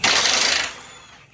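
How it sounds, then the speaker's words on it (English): An impact wrench loosens an 11/16 trailing arm bolt on a Corvette C3 during rear differential removal, a loud, close burst of buzzing that runs for about half a second before fading. "he's just going to pop an impact on it."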